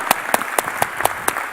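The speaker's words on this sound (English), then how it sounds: "I think we need to give a big applause first to yourself, for being such a wonderful audience." An audience at a fashion event inaugural claps in a regular rhythm, about six distinct claps in under two seconds, loud and close.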